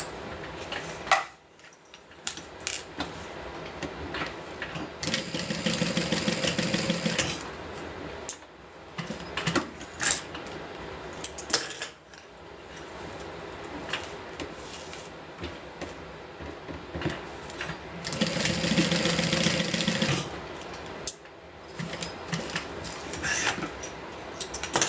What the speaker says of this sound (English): and then we're going to sew it down.